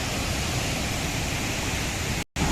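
A waterfall pours in a constant, dense, loud rush of broadband roar, with a brief dropout near the end.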